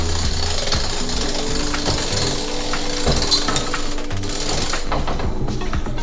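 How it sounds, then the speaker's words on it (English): A pressed penny machine at the Toledo Zoo runs with steady grinding, ratcheting gear clatter, close and fairly loud for several seconds without talk. "they have one of the press penny machines here"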